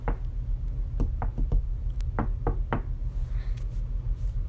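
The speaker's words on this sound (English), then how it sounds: "Knock, knock, knock." Knocks on a door in the Melon Playground game, several sharp raps in irregular clusters, close and clear over a low steady background hum, with no talking.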